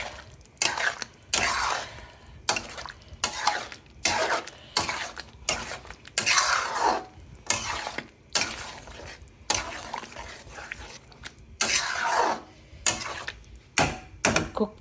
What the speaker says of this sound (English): Mix this.